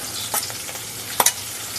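Curry leaves and green chili crackle in hot oil for a ridge gourd dish, with a steady close sizzle broken by a couple of sharp spatters and quick stirring scrapes, with no talking.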